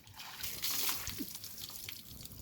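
Bathwater is poured back into a plastic basin with close trickling and splashing, a steady wet sloshing that swells briefly near the middle.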